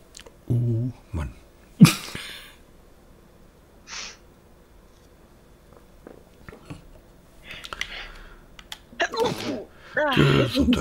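A single sharp sneeze bursts out near the microphone amid quiet room tone, surrounded by scattered breaths, small clicks and brief murmured German talk.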